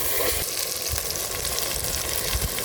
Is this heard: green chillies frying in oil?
yes